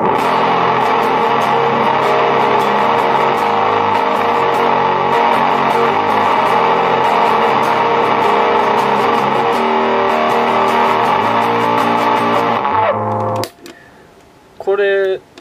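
Electric guitar played through a Big Muff fuzz pedal with every knob turned fully down rings out loud and sustained with a thick, dense distorted tone, then cuts off near the end to brief quieter picking.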